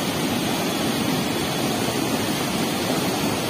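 Water rushes through an open sluice gate like a waterfall, a loud, constant broadband roar that goes on without a break and with no voices.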